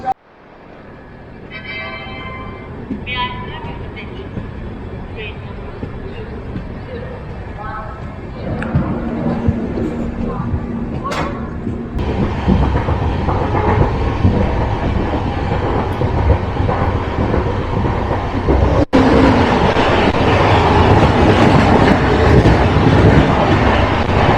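Inside a moving LTT Mumbai–Lucknow AC Express train, a loud, steady rumble with rhythmic rail clatter builds and intensifies, while people talk over it.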